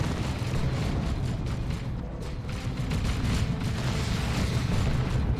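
An explosion rumbles through a Warhammer 40,000: Dawn of War 2 battle between Space Marines and Orks, a broad, sustained low boom blended with crackling debris and ongoing battlefield noise, with no talk over it.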